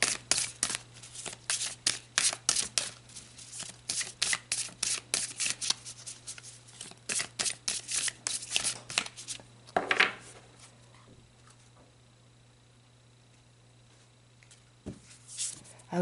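Oracle cards being shuffled by hand, a rapid run of crisp riffling flutters for about ten seconds before easing into near silence, with a brief soft rustle returning at the end.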